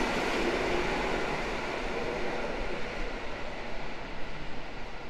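An Intercity Kujawiak train arrives at Warszawa Zachodnia station, filling the air with a continuous, close, broadband rumble and hiss of rolling wheels that holds steady throughout.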